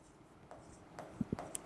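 Faint scratchy strokes of handwriting on a board during a geography lesson, a few short quiet scrapes and light taps in a quiet room with no voice.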